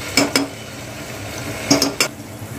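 A spoon stirring onion and tomato puree in a pan knocks against the metal in two quick pairs of clinks, separated by a quiet pause.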